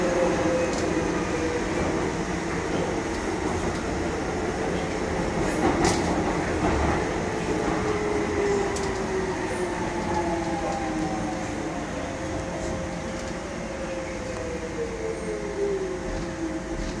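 A Docklands Light Railway train rumbles steadily along the track between London City Airport and Canning Town, a continuous roar with faint rising and falling whine tones, no voices present.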